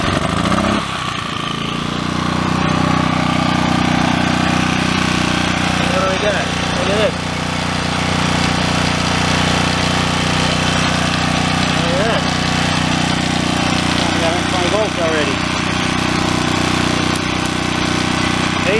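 A Champion generator engine runs steadily and loudly nearby, a constant droning hum with a few brief whistling warbles over it, while someone talks now and then.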